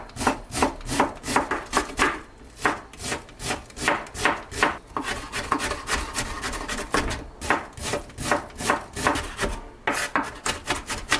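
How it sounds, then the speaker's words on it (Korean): Onion is minced with a knife on a cutting board, a long run of quick, rhythmic chopping taps, close and crisp, with brief pauses and no talking. "양파 1개 반을 다져서 다진 돼지고기 있는 보울에 넣어주고요"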